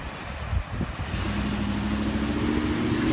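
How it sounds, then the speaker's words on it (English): Truck trailers roll past a railroad crossing with broken gates, a continuous loud road roar and rumble that builds and holds, with a rising engine tone joining it toward the end. "Truck trailers."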